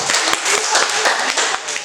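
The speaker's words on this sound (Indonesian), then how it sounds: "tepuk tangan, silakan" A small group of students in a classroom claps briefly, a quick scatter of uneven hand claps that fades within a couple of seconds.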